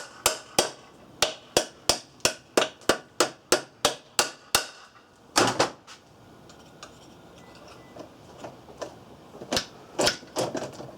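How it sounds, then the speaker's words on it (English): A shift rail pin tapped into a Tremec T56 transmission, a quick even series of sharp metallic hammer taps, then a pause followed by a few scattered, irregular knocks, close and crisp. "I'm going to put in this shift rail pin."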